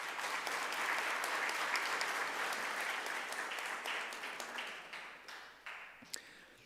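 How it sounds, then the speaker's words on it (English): Audience clapping at a Westering High School Grade 10 prize-giving, a steady wash of many hands that gradually thins and fades, ending in a few scattered single claps. "You can clap."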